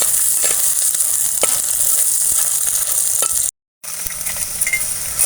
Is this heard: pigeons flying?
no